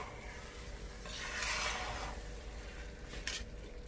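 Soft scraping and swishing of a spoon stirring garam masala into cooking mash dal lentils in a pot, with a gentle sizzle underneath and a brief clink near the end.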